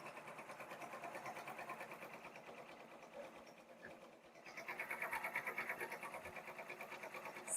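A close embroidery machine stitches a unicorn horn jack-o'-lantern design onto a T-shirt in a steady rapid rhythmic whir that dips briefly and then speeds back up, with no talking.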